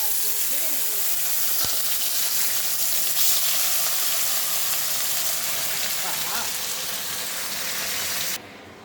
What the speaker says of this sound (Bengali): বন্ধুরা মাছ ভাজা একদম হয়ে গেছে